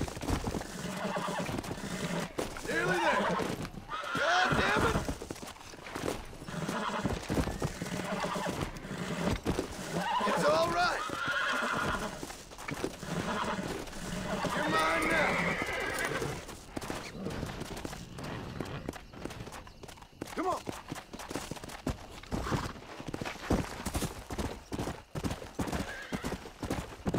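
A horse in Red Dead Redemption clip-clops at a steady ridden pace, with repeated loud neighs and whinnies over the hoofbeats throughout, plus occasional sharp gunfire-like cracks.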